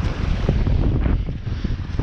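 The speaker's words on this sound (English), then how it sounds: "Sorry about the bloody wind." Strong wind buffets the microphone on a beach during a camping trip, producing a constant loud, low roar with gusty rumbling and no voices.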